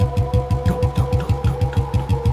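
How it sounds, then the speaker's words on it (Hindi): A heavy, old, echoing motorcycle engine throbs steadily behind a car on a foggy road at night, a loud, fast pulsing rhythm with a constant ringing hum above it. "तभी उस घोर सन्नाटे में कार के पीछे से एक आवाज आनी शुरू हुई, एक बहुत ही भारी, पुरानी और गूंजती इंजन की धड़कन।"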